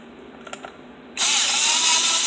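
A ratchet works the side bolts on a big-bore pocket bike: a few faint clicks, then a loud, steady mechanical whir starts about halfway through and runs to the end.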